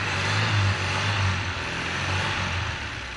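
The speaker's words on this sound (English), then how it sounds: "Yeah, it's idling." A Chevy LUV pickup truck engine idles after being jump-started with a newly installed alternator, producing a steady low mechanical rumble and hum, fairly loud and close, with no voices.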